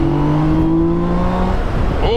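Up close, a BMW K1600GT six-cylinder motorcycle engine holds a steady, smooth rising drone with an intake note, then drops away toward the end as the throttle closes.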